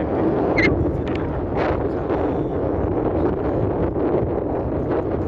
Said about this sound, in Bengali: একটা হাওয়া চলছে, শাসন করে হাওয়ার আওয়াজ আসছে।